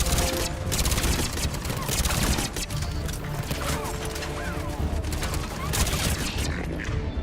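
Gunfire in the Mass Effect 3 video game, with shots striking cover: dense, rapid bursts of shooting and impacts layered with busy combat noise throughout.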